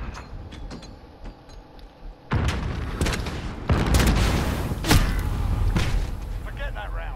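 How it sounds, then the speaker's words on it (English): Grenade explosion in Call of Duty: Modern Warfare, a sudden loud boom cutting in over quieter shooting, followed by more heavy blasts and gunfire, with a voice talking underneath. "Hit one with a grenade."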